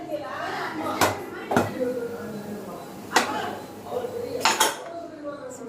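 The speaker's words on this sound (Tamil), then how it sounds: "குக்கர் மூடிடலாம் இப்போ" A pressure cooker lid is closed with several sharp metallic clanks and clicks spaced a second or so apart, close by, while a voice talks faintly in the background.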